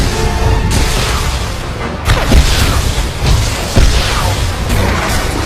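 Rapid missile barrage explosions in the Star Wars: The Old Republic game, a loud, dense wall of booming blasts and crashing impacts rolling continuously, with sharper hits standing out near the start and again midway.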